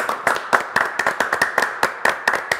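Small studio group claps for a singer in a loose, fairly regular rhythm of close, sharp hand claps, a dozen or so distinct strikes with little else beneath them.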